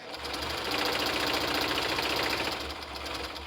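A sewing machine runs a straight stitch on a clown Lolita outfit, a fast, steady mechanical chatter that ramps up, holds for a few seconds, then slows near the end; no one speaks.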